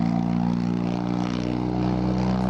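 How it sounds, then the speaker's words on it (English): A race car engine in Assetto Corsa on PS4 drones loud and steady at close range, its even, propeller-like hum sounding much like an airplane, with no voices. "this car sounds like a freaking airplane"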